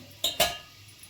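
A pressure cooker lid set onto the pot while cooking avarekalu gravy, two quick metallic clanks in close succession, near and fairly crisp against a quiet kitchen.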